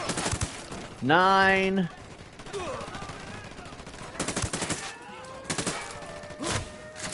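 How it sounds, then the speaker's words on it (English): Gunfire in Ghost Recon Wildlands comes as several sharp, loud shot bursts spaced across a dense game soundscape, with someone speaking briefly between them. "I'm opening fire on these shitheads."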